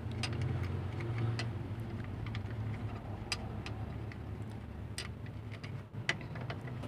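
A car engine with a leaking brake vacuum seal idles steadily with a low hum and a faint airy hiss, light ticking clicks scattered throughout.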